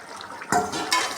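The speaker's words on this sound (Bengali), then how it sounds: "এখন আমি ঢাকাটা উঠিয়ে দেবো।" Metal lid lifted off a cooking pot of potol posto (pointed gourd in mustard-poppy paste), two short close clanks of metal on metal about half a second apart.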